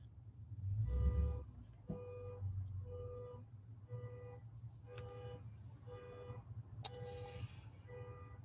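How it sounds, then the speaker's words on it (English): A car alarm or horn goes off outside, a repeating electronic tone pulsing in regular bursts at a middle distance over steady low background rumble. "That's actually the second time today I've heard someone's car just going off abruptly and randomly."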